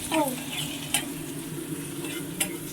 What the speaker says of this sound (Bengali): এখনো সবজি শুধু ভাজা হচ্ছে